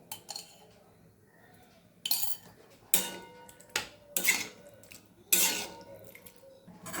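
Chickpea dal is stirred in a cooking pot, with a utensil clinking and scraping against the metal in several sharp, separate strikes spaced a second or so apart, with quiet between them.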